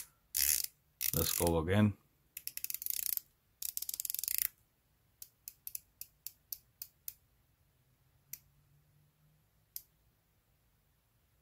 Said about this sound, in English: Solid clicks, very accurate, precise as well.